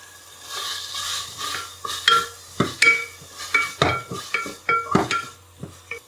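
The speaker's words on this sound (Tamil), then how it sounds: "இஞ்சி பூண்டு பேஸ்ட் ஆட் பண்றேன்" Ginger garlic paste frying with softened tomatoes in a pan, with a soft sizzle beneath repeated scraping strokes of a spatula, about one stir per half second, close and fairly loud.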